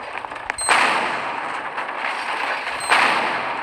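Two loud, crackling blasts roughly two seconds apart, each followed by a noisy rumbling tail, explosions in a Roblox destruction physics game heard close up.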